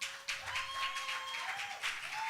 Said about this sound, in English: it is a good time to applaud Pastor Dami